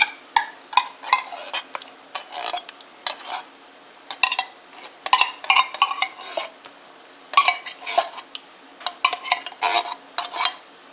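A metal utensil scrapes and clanks against a pot of hashbrown and beef casserole in repeated bursts of stirring, close up, with short pauses between strokes.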